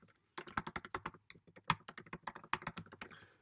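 Rapid, close keystrokes on a computer keyboard, a steady run of crisp taps lasting about three seconds.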